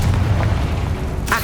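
A Confringo fire spell detonates in Hogwarts Legacy, a loud, deep rumbling boom that rolls on for over a second, ending in a brighter burst.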